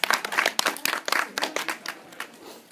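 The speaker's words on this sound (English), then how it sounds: "Let's give her a big round of applause" A small tour group claps for a few seconds, the individual hand claps distinct and uneven, close by, tapering off toward the end.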